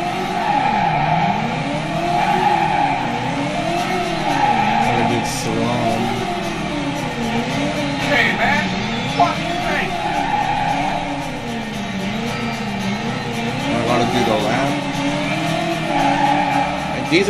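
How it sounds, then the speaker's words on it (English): Game car engine in the video game Driver doing a burnout, a steady droning, wavering engine tone with rising and falling pitch and some tire squeal, loud and continuous throughout. "So I do the burnout and break."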